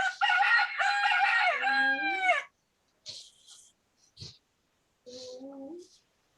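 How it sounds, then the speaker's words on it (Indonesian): Rooster crow sound effect played by a Scratch mobile app when the phone is shaken: one loud, clear cock-a-doodle-doo, then brief clucks and a shorter second crow after short silences. "kalau shaking dia keluar suara ayam"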